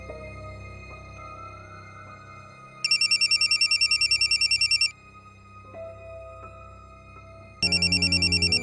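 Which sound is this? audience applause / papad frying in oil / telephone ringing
telephone ringing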